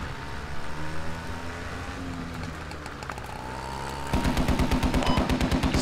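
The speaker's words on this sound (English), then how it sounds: "I'm hearing shots like where you guys are heading in." Gunfire in a squad-based military shooter game, bursts of shots rattling at moderate distance under continuous engine and ambient rumble, turning into dense rapid automatic fire near the end.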